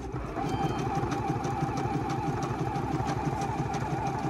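Juki HZL G220 sewing machine running a zigzag stitch, a steady close mechanical whirring hum with a fast even rhythmic chatter, heard alone.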